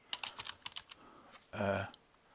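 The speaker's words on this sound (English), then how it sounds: "Might help if I typed in Deutsche Bank's share price" Short burst of clicky keystrokes on a computer keyboard while a Deutsche Bank share price is entered, a quick run of taps followed by a louder, denser clatter near the end, close and alone.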